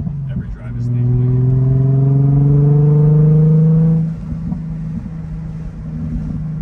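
A Nissan 350Z Nismo with a Tomei exhaust pulls hard on a curvy backroad, its engine note climbing loud and close for about three seconds before backing off to a steady low rumble.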